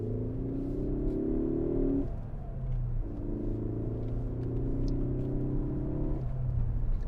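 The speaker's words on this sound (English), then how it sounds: "Hopefully you'll get to hear the induction noise that I'm talking about." A 2016 Ford Focus ST accelerates hard through the gears, its engine and induction noise rising in pitch, dropping at each shift around two and six seconds, then climbing again, heard from inside the cabin.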